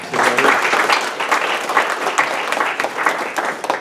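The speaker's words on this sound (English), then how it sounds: "Give a big round of applause to Trey Kramer" An audience at a Summer Creek High School business event claps loudly and densely for a few seconds, the applause easing slightly toward the end, with faint voices beneath.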